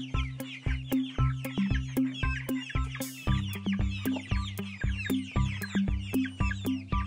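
Cartoon-style hen and chicks clucking in a farmyard: a busy, continuous run of rhythmic clucks and chirps, close and fairly loud, with no talking.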